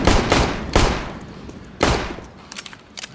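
Gunfire in the video game CS:GO during a pro Astralis vs. ENCE final at Katowice 2019: several loud broadband shot bursts, three big ones in the first two seconds, then sharper, quieter pops near the end, with no voices.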